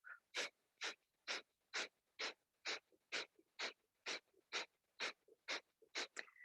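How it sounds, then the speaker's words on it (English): Rapid, evenly paced yoga breath of fire: about fourteen sharp nasal exhalations in a steady rhythm, close and fairly loud, with no talking. "you could even turn it into a full breath of fire."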